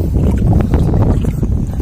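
Strong wind buffets an outrigger boat at sea, a loud, steady rumbling roar of wind noise across the microphone that runs through the whole moment without pause.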